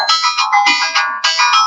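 Bright electronic mobile phone ringtone playing loud and close, a repeating melodic phrase of tones with brief dips between phrases and no talk over it.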